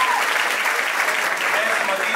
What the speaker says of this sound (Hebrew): כפיים